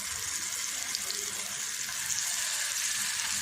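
Brinjal (eggplant) pieces, coated in rava, fry in hot oil in a kadai with a dense, continuous hiss that stays steady and fairly loud throughout.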